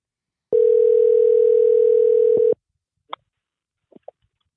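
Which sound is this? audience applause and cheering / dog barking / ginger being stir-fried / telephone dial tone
telephone dial tone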